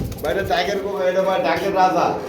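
Pigeons coo close by at a pigeon seller's place, a low, wavering call that carries on steadily for the whole stretch, with people's voices mixed in.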